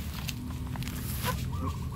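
A healthy tall hen of the bulik type clucks in a grass pen, soft intermittent clucks and fowl calls over a low steady outdoor background, with no talk.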